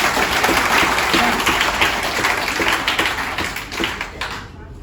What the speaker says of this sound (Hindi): अपने लिए जबरदस्त तालियां हैं।